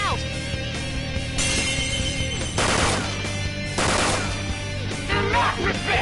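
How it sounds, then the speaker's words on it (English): In a Persona 5 Royal battle, an enemy's fire attack erupts in several loud, rushing bursts spaced about a second apart, over continuous game music and effects. "She's going to attack with fire."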